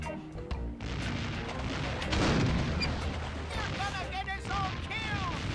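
Gunfire in The Curse of Monkey Island, heavy booming shots and bursts rolling through a noisy scene, with voices and chirpy character sounds mixed in over the blasts.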